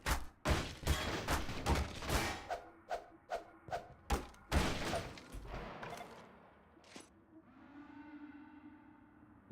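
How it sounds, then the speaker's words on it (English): Machine gun fire in Half-Life 2: Entropy Zero 2, a rapid string of loud thudding shots and bursts that stop abruptly and leave a lingering ringing tail, with no speech. "Don't tell me the Shadow Walkers have a machine gun."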